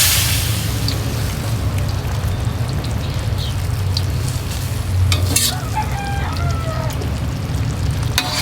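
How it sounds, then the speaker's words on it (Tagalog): A pork steak sauce with calamansi juice is stirred in a pan, giving a steady sizzle with scraping stirring strokes, and a rooster crows faintly in the background near the end. "Tapos ilagay po ulit natin ang calamansi juice. Haluin po ulit natin."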